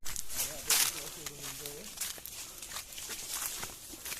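Dogs on a path among trees in Arambol, Goa, give a few short whines or yelps early on, mixed with nearby voices and footsteps.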